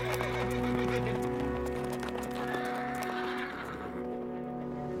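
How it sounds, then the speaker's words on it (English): Frenzied cavalry horses in Yellowstone, spooked by an early car, neigh and whinny over steady clip-clop hooves, busy and fairly loud throughout, layered with background music. "the car sent their horses into a frenzy"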